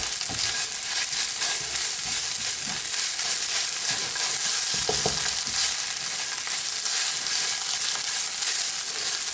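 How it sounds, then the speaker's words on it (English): Tomato paste sautés in a hot pan with a steady, loud sizzle and crackle that holds for the full stretch, with a few soft scraping stirs in the middle and no talking. "sauteing tomato paste in this way really intensifies its flavor"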